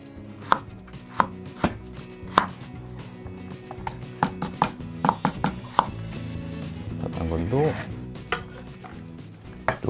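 A knife chops carrot on a cutting board in sharp, evenly spaced knocks that keep a steady rhythm close by, with a brief scraping pass partway through.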